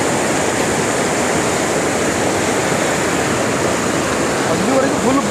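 Fast-flowing water rushes steadily at Gundyadka waterfall near Mangalore, a loud continuous roar filling the scene from start to finish without any break.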